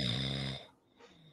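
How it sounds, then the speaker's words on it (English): A person snores with one loud, rasping inhaled snore that stops abruptly, followed by quiet breathing, close to the listener. "Yo, you snoring?"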